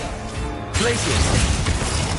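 Glacius freezing spell in the Hogwarts Legacy video game, striking with a sudden crackling, shattering burst of icy impact noise that rises abruptly and carries on amid ongoing combat sounds.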